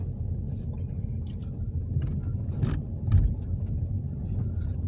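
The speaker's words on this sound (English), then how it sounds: "I'm just driving up now from the Swinecote" A car driving slowly along a road through Sherwood Forest Country Park, a steady low engine and road rumble from inside the vehicle, with faint rattles and a soft bump partway through.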